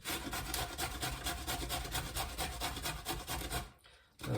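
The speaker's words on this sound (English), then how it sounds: "just grate that" Fresh zucchini, skin on, is pushed over a coarse grater in rapid rhythmic rasping strokes, close and steady, before stopping abruptly near the end; no one speaks.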